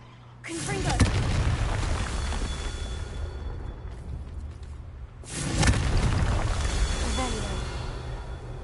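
Confringo fire-blast spell cast in the Hogwarts Legacy video game: two heavy booming bursts, the first near the start and a second about five seconds later, each followed by a rumbling, crackling tail over a dense game soundscape.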